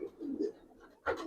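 Palla line pigeons in a loft coo in low, rolling phrases at close range, followed by a louder, brief rustling burst near the end.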